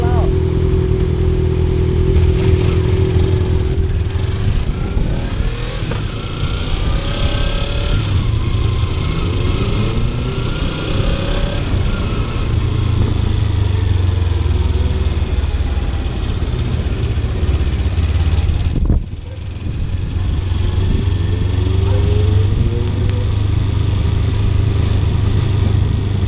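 Motorcycle engine running on a road ride home from a motorcycle meet, a loud close rumble rising and falling with throttle, briefly dropping out near the end before returning, with people talking over it.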